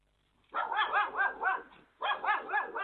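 A dog barks in two bursts of rapid, fairly loud barks, a pause of near silence between them, with no voices.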